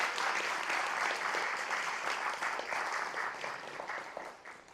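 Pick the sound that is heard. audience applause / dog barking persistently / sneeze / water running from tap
audience applause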